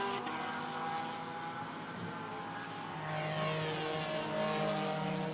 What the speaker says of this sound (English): So sweeping through the Parabolica. One of the Allied Racing and Nova Racing Porsches also just in the background.